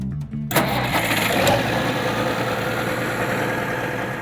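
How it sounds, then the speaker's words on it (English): A 1964 Allis-Chalmers D19 turbo diesel tractor engine cranks and catches after half a second, then settles into a steady, loud, close idle with a low rumbling drone. "I got a 1964 Allis-Chalmers D19 turbo diesel."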